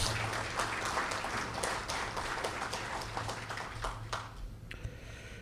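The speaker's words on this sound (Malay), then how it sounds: "tahniah sekali lagi, tepukan pada mereka ni." A crowd applauds steadily at moderate distance at a fire and rescue department monthly assembly, a dense patter of many hands that thins out toward the end.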